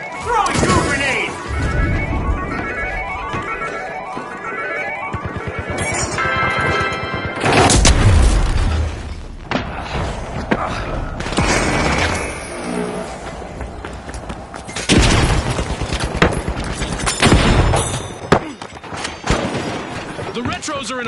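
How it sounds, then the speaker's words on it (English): Goo grenades are thrown and burst in the shooter game The Finals, heard as repeated heavy thumps and crashes amid gunfire and busy game noise, with talk running over the action. "Throwing goo grenades! Throwing goo grenades!"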